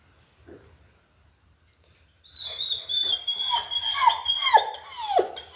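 A young dog whines in high, rising squeals, several short yelps repeating over a few seconds after a quiet start, fairly close and loud.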